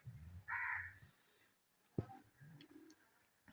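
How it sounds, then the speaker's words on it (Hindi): Birds call around a peaceful village: a crow caws loudly and a pigeon or dove coos, close and clear, in a few separate calls with quiet gaps between them. "गाँव का पुरसकून माहौल और चहचहाती आवाज़ें परिंदों की बहुत प्यारी लगती हैं।"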